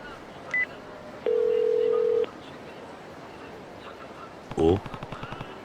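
Phone dialing inside the video game Yakuza Kiwami: a short beep, a long steady tone, and at the end a burst of rapid stepped clicks with a louder pulse, heard over a low ambient game bed with no talk.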